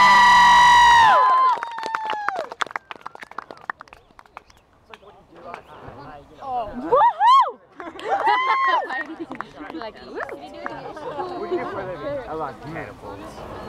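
Crowd cheering and chattering at an outdoor trebuchet event in London, with a loud burst at the start and a swelling cheer midway, lively babble throughout.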